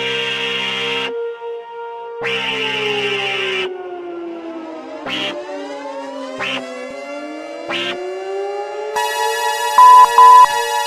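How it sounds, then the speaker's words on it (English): An emergency broadcast alert siren sounds loud and close, with sustained tones that sweep and wail up and down, broken by short bursts and ending in high steady beeps. "The siren's going off."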